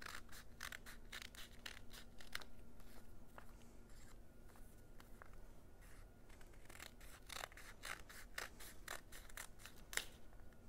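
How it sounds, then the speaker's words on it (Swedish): Scissors snip through folded paper to cut a sunflower petal, giving a close, steady run of crisp clicks and slices with short pauses between bursts. "Sen tar du saxen och så klipper du ett solrosblad."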